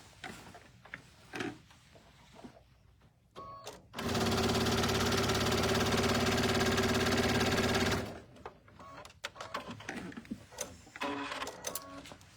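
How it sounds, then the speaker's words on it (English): A sewing machine stitches the opening of a cinch bag in one steady, mechanical run of about four seconds, with quiet handling noises before and after. "We are going to hand stitch this on the sewing machine."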